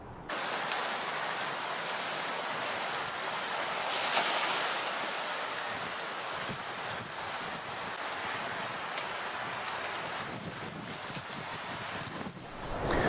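Sea waves at high spring tide surge around a rock stack on the coast of Rhoscolyn, Anglesey, a steady broad wash of surf with swelling rushes, mixed with gusty wind buffeting the microphone.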